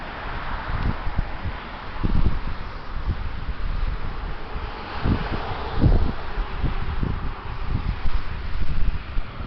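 Heavy wind rushes in a continuous broadband roar, with low gusty thumps of buffeting hitting the microphone at irregular intervals throughout.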